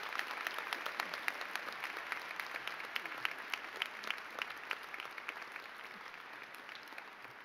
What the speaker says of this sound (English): So please join me in giving a warm round of applause to Ambassador Linda Thomas Greenfield.